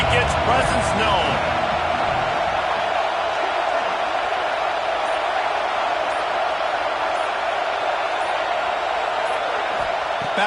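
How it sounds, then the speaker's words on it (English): A football stadium crowd roars in a steady, dense wash of cheering that holds loud and unbroken throughout, with a commentator's voice running over it. "This crowd ready to make its presence known."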